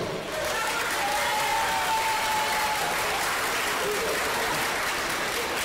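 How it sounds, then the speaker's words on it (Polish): Steady, dense applause from an audience at a 1999 look-alike show in Opatów, loud and continuous throughout with faint voices mixed in. "Dzidek, brawa dla Dzidka Staniszewskiego."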